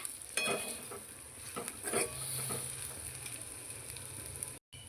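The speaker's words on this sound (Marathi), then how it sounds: "हे व्यवस्थित हा हलवून घ्यायचं आहे" Stirring cooked chicken in a pan for kharda chicken, soft scraping and clinking of a spoon against the pan over a faint sizzle, close and quiet with no talking.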